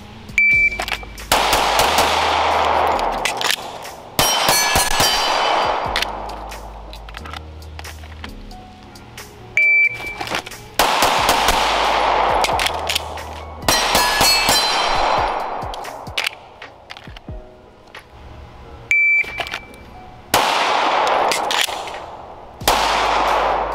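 Handgun shots after a concealed carry draw, fired in quick strings of several rounds that clang sharply off steel targets, loud and close, with short pauses between strings.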